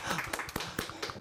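A few people clap in short uneven bursts at close range during a Korean travel outing to Paro Lake, with talking overlapping the claps throughout.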